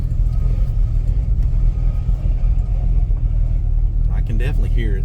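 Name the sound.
Avanti car driving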